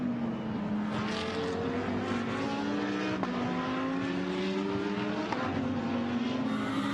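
GT race cars circle the Zandvoort track in qualifying, the engines climbing in pitch and then dropping sharply at each gear change as they pass, loud and steady for the whole stretch, with no talk.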